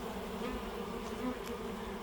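A dense, steady buzzing of many honey bees crowding over wax cappings, close and continuous with no pauses.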